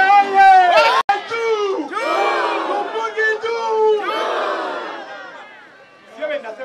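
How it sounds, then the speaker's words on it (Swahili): A rally crowd in Bukavu lets out loud, warbling ululation mixed with cheering and whoops, the high trilling voices swelling in bursts with a sharp clap-like hit early on and fading toward the end. "Kama mnafurahia siku ya leo tupige vigelegele."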